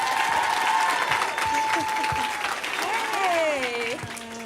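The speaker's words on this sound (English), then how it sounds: "let's give a warm hand of applause for Miss Rashida Jones." A studio audience applauds steadily to welcome actress Rashida Jones onto a talk show, the clapping loud and sustained, with tonal sounds sliding over it near the end.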